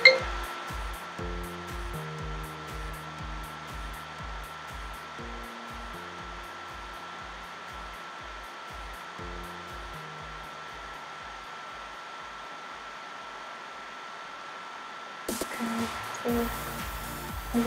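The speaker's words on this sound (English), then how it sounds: "My old trusty Kirby vacuum." A Kirby upright vacuum cleaner motor drones in a steady, high-pitched whir that runs continuously. Faint rhythmic music plays underneath at the start.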